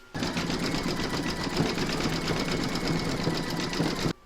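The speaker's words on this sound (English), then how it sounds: "Now it's going to zigzag along the line to join the two pieces together" An embroidery machine zigzag stitches an in-the-hoop bells applique, a steady, rapid mechanical whirring and needle clatter running loud and unbroken for about four seconds before stopping abruptly.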